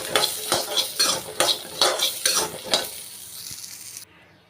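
Peanuts, dried red chili, coconut and tamarind dry-roasting in a pan, with a steady run of spatula scrapes and stirs over a soft sizzle, close and fairly loud, fading to quieter sizzling near the end.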